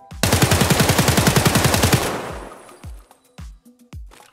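An SA-58 rifle fires full-auto in Escape From Tarkov, a loud, rapid burst of about twenty evenly spaced shots lasting two seconds, followed by a decaying echo and a few mechanical clicks and thuds.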